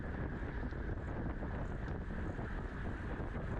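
Wind blows steadily across the outdoor Pumpkin Valley Circuit race course, a constant broadband rush buffeting the microphone at a low, even level with no talking.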